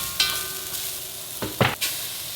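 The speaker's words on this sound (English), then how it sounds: "my pan is heated up. I'm doing a stir fry. I'm gonna do broccoli stir fry." Broccoli stir fry sizzling in a heated pan, a steady hiss with a few sharper bursts of crackle as the food is stirred, close and loud with no talk.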